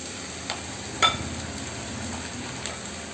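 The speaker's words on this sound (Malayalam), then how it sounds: "ഇനി നമുക്കിതിലേക്ക് മാരിനേറ്റ് ചെയ്ത് വെച്ചിരിക്കുന്ന പോർക്ക് കഷ്ണങ്ങൾ ചേർത്ത് കൊടുക്കാം" Marinated pork pieces sizzle in a pan of sautéed onions, a steady frying crackle with a few clinks and stirring knocks close up, no voices.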